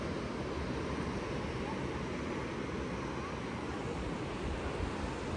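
Sea waves break steadily along the rocky Cinque Terre coast near Monterosso, a continuous loud wash of surf with wind rumble and no clear individual breakers standing out.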